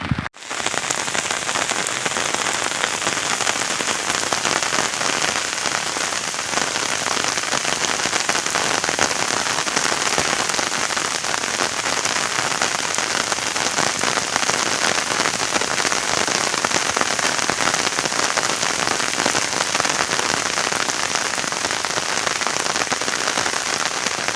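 Heavy evening rain pours down steadily on a Konkan village near Ratnagiri, a dense, unbroken hiss of drops drumming on surfaces, loud and close, with no voices throughout.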